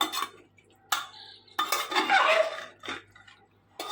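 Metal utensils scrape and clank in a pan as ginger-garlic paste is stirred and sautéed in oil, a few separate bursts of clatter with quiet gaps between them.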